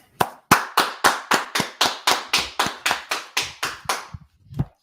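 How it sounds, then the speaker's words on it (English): A crowd claps in unison at a street gathering in Washington DC, about fifteen loud, evenly spaced claps in a steady rhythm, then a short pause and one final clap. "let's clap it up"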